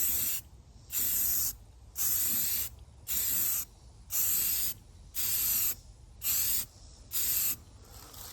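Aerosol spray paint can coating car rims, eight loud hissing bursts of about a second each, separated by short quiet gaps, close to the microphone.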